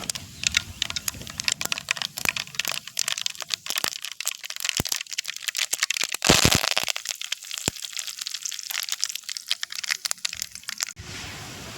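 Mustard seeds spluttering in hot sesame oil in a pan while mango pachadi is being cooked: dense, continuous crackling and sharp pops, close and fairly loud, with several louder snaps.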